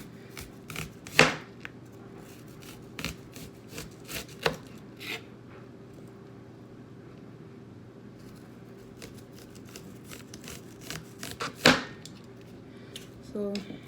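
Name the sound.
chopping onions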